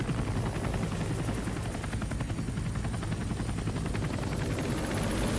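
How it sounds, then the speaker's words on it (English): A helicopter in the video game Metal Gear Solid V gives off a loud, continuous, rapid rotor chop that thumps steadily throughout with no talk over it. "we're off in the helicopter again for some reason."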